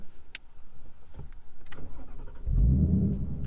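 A few clicks and rustles, then a 2018 Ford Mustang GT engine cranks and fires up, settling into a loud, low idle at the end.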